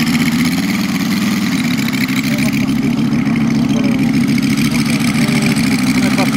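A Moki 150 radial engine runs on a Ziroli Stearman model biplane during a test flight, a loud, steady, continuous drone that holds close throughout.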